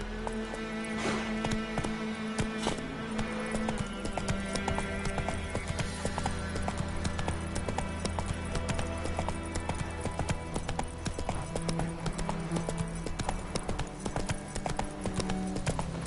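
Horse hooves galloping in the Witcher 3 video game make a steady, rhythmic clip-clop that runs the whole stretch beneath continuous game music, with a brief whinny near the start.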